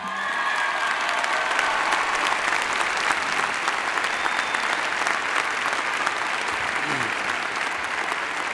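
An audience at a ceremony applauds steadily to welcome a speaker, dense clapping from many hands that carries on evenly throughout, with a few faint voices in the crowd.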